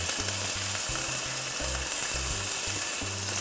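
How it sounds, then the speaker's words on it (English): Beef roast searing in hot coconut oil in a pan, a steady broadband sizzle and crackle that holds through the whole stretch, fairly loud and close, with low hum underneath and no talking. "I'm going to put my roast in there and I'm going to sear it"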